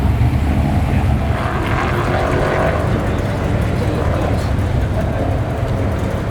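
A hot rod and a Cadillac drive off together on a track, giving a steady, loud, continuous engine roar that holds without letup.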